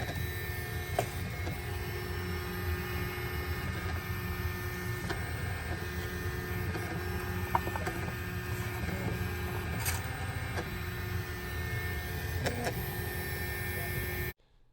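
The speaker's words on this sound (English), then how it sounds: "it's printing the test print" A budget 3D printer runs a test print, giving a steady quiet mechanical hum with faint stepper whines and small clicks throughout before cutting off.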